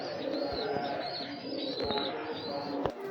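Pigeons coo steadily alongside higher bird chirps, close and fairly loud, with a few sharp knocks in between. No one speaks.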